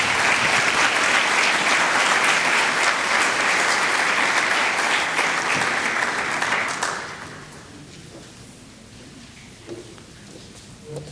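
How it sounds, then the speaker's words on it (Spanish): A loud, sustained ovation from a seminar audience welcoming a speaker, many hands clapping in a dense wash for about seven seconds before stopping abruptly, leaving a quiet room with a few faint sounds. "lo recibimos con un fuerte aplauso"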